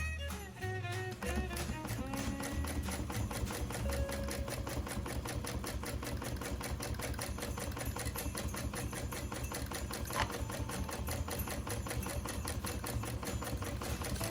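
A hand-cranked sewing machine stitches a travel bag with a steady, even run of close mechanical ticks that carries through the whole stretch at a moderate, unhurried pace.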